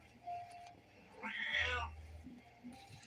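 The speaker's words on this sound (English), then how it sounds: "with my cat meowing in the background" A house cat meows once in a drawn-out, wavering cry, faint and somewhat distant against quiet room noise.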